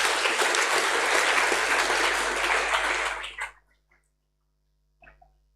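Audience applause at a university first-year address welcomes a professor onto the stage, steady and dense for about three seconds before breaking off into near silence with a few stray claps.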